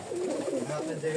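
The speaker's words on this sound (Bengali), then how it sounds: "অনেক ভালো ভালো কবুতর থাকবে" Pigeons coo close by in a bird market in Rajshahi, a low, rolling, throaty call heard under a man's speech.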